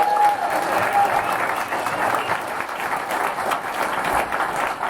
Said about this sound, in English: the applause for Tyler was just a little bit louder